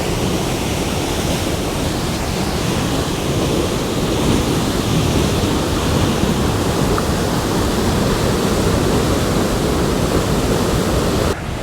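Brown Mountain Dam waterfall after rain, a heavy, constant roar of falling water close by, dense and unbroken throughout with no voices.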